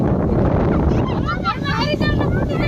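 Strong wind buffets the microphone with a heavy low roar while people talk underneath it.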